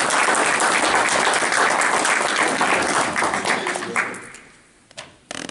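A large audience claps and cheers loudly for a grandmaster being introduced, a dense roar that holds for about four seconds and then fades into scattered claps.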